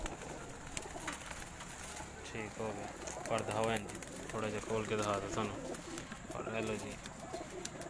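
Pigeons, including a pearl-spotted one, coo repeatedly at close range on a Sialkot rooftop, their soft rolling calls rising over a steady outdoor background while a man greets someone briefly.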